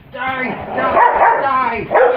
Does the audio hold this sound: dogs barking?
yes